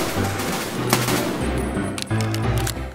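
Rapid automatic gunfire in Escape from Tarkov, loud and close, with dense bursts of shots running almost continuously through the clip and a brief break near the two-second mark.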